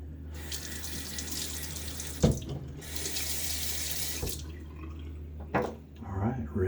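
Tap water runs into a sink while a safety razor is rinsed, a steady splashing stream broken by a few sharp knocks of the razor against the basin.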